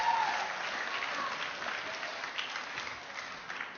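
Audience applause for Mr. Madison at a Jefferson-Hamilton debate at the Nixon Library, a sustained, dense clapping from a moderately sized crowd heard from a distance, slowly tapering toward the end.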